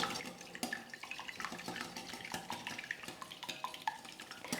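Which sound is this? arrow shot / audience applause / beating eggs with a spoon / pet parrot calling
beating eggs with a spoon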